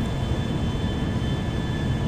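Idling airplane engine in GTA 5, holding before takeoff: a steady, loud, continuous low drone with faint high whine, unchanging throughout and with no voices.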